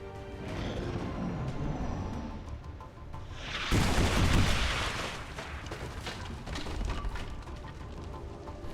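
A grenade blast in XCOM 2 erupts about midway as a single loud, broad roaring burst, then fades into a rumbling tail over steady mechanical background sound.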